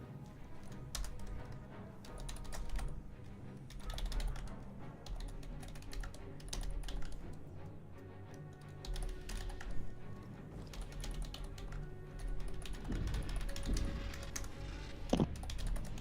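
Computer keyboard typing fills the stretch, a steady run of quick, close key clicks with short pauses. Game audio plays faintly underneath during a 16-player online raid.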